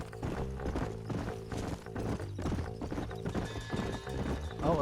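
A horse in the Red Dead Redemption video game gallops with rapid rhythmic clip-clop hoofbeats and lets out neighs and whinnies, close and loud, with game music beneath.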